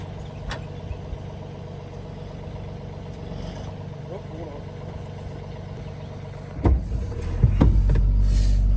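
A car engine runs at a low, steady idle, moderately loud and close, with clanks and a rising rev or movement noise near the end.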